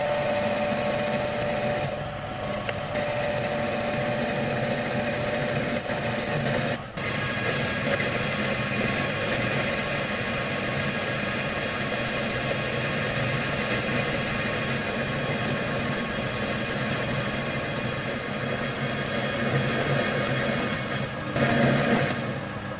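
A metal lathe turns a flange while an RCMT 10mm round button insert rounds the corner and faces it, giving a steady, loud cutting hiss with a few short clicks or bumps along the way.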